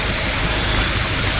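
Torrential monsoon rain pours around an auto-rickshaw during a street march, a dense, loud, unbroken hiss of water filling the whole clip.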